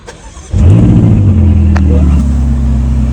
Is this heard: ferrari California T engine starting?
yes